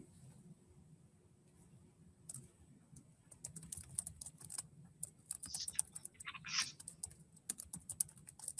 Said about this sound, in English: I'm going to type it one more time, Millie.